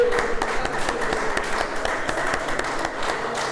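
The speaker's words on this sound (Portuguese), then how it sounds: "Vamos aplaudir o Senhor por isso." A church congregation applauds together, a sustained dense clatter of many hands with no voices over it.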